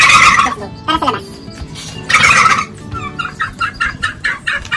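Pet turkey outside a house among trees, loud gobbling and clucking calls in bursts, then a quicker run of short repeated calls, with a person speaking over the calls.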